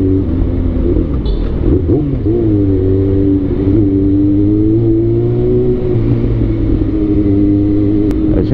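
Motorcycle engine droning steadily while riding, a loud close rumble with smooth pitch shifts as the throttle rises and eases, with no talk over it.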